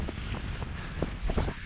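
Wind gusting across a campsite beside a tarn in the Lake District in freezing weather, buffeting the microphone with a loud, rough, continuous rush.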